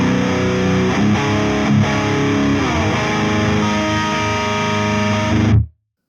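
A high-gain Orange Super Crush amp simulator gives a heavily distorted electric guitar thick, saturated chords for several seconds, loud and sustained, then cuts off abruptly into silence.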